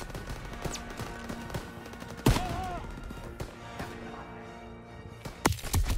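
Gunfire in a World War II shooter game, a few sharp isolated shots with one loud crack standing out and another burst near the end, over a quiet, low-level game background.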